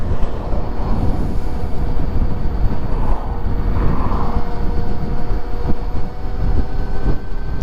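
Honda Grom motorcycle converted to a Tesla electric motor, riding at around 30 mph: a steady loud whine and rushing wind and road roar, continuous and close throughout with no voice.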